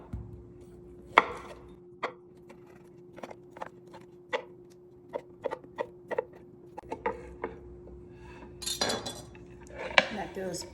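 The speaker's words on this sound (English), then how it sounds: "I've got some Polish kielbasa here. Just gonna cut these up." A knife chops Polish kielbasa sausage on a cutting board in a home kitchen, giving a string of sharp, close, evenly spaced knocks over a faint steady hum, ending in a brief scrape of the pieces.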